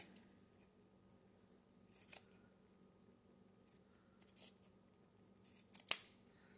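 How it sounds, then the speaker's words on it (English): Scissors snipping down the side seam of a sock, quiet scattered cuts building to one sharper, louder snip near the end, in an otherwise hushed room. "we are just going to cut down where this seam is right here"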